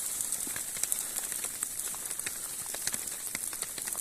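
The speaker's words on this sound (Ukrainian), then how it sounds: "Дощ такий серйозний пустився." Heavy rain falls in an autumn forest near Vorokhta, a steady dense hiss of drops pattering on leaves and surfaces, with scattered closer splats and no voices.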